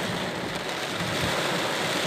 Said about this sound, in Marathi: बघा कसा पाऊस पडतोय पुण्यामध्ये जबरदस्त असा पाऊस